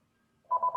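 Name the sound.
telephones ringing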